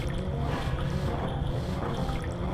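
A water jet rushes in The Legend of Zelda: Majora's Mask 3D, giving a steady, dense, low-heavy roar of flowing water at even loudness throughout, with no voices.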